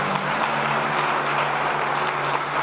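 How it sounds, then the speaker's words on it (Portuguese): A church congregation applauds in a dense, continuous wash of clapping that holds steady and fairly loud throughout, with no clear voices above it. "Aplauda Jesus."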